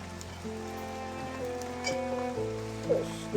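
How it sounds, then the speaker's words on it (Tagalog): Steady rain falls throughout, a continuous soft patter that stays even from start to finish, with droning tones running underneath and no speech. "Ulan na eh."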